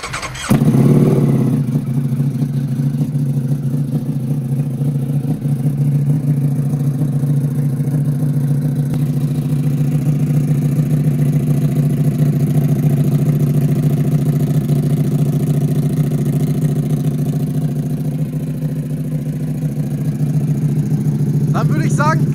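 A 2024 Ducati Panigale V4 Francesca Edition, a customer conversion, starts with a sharp burst and settles into a loud, steady, close-up idle that holds for the rest of the stretch.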